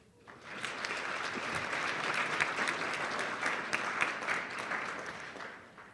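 Audience applause at a school district awards ceremony honoring students: a steady wash of many hands clapping fills the room for about five seconds, swelling quickly and then tapering off at the end.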